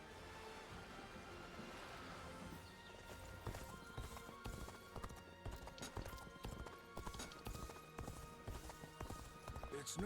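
Horse hooves clip-clop in steady rhythm as a rider travels in Dynasty Warriors Origins, moderately close under ambient game sound, starting after a few seconds of quieter background.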